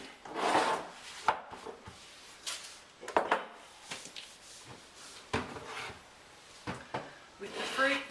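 Kitchen surfaces being wiped and items lifted and moved while cleaning, with scattered knocks, rubbing swipes and clatters of objects being set down, close by and intermittent.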